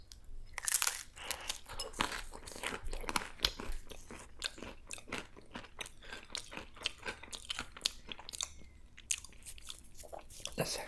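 Crunchy bites and close, wet chewing of flatbread with Indian chicken saagwala: a dense run of sharp crackling crunches and mouth sounds, loud and intimate, with no pause throughout.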